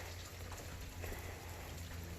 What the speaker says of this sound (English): It starts raining.